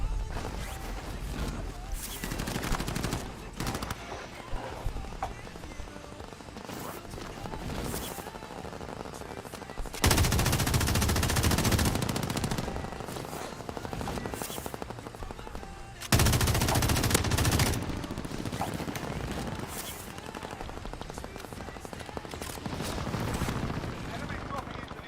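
Video game gunfire with bursts of automatic fire and heavy crashing impacts, loud and sustained in several waves, with a player talking over it.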